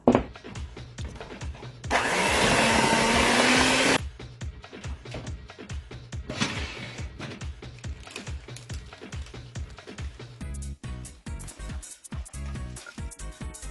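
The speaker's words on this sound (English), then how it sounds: "You have to beat the cream cheese and the sugar together until soft and like fluffy." Electric mixer beating cream cheese and sugar for frosting runs in a loud steady whir for about two seconds, then stops, followed by scattered clatter and handling sounds nearby.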